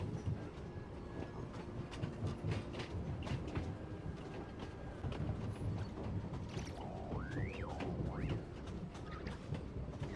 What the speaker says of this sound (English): I like that we have a train